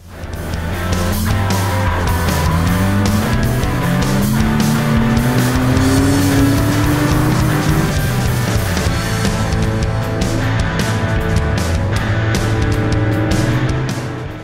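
A 3-liter BMW race car drifts, its engine roaring loud and close with a continuous, strained note that climbs and falls in pitch as the revs swing. No one speaks over it.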